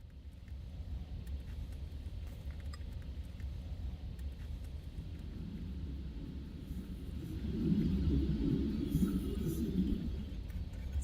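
A steady, low engine rumble fills the inside of a moving car. It holds constant and swells slightly louder toward the end, with no talking.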